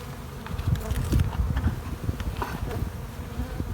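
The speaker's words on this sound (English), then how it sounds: "Fully occupied by bees." Honeybees buzz steadily in an open hive during spring brood-chamber inspection, a close, dense drone of many bees with a few louder passes near the microphone and no talking.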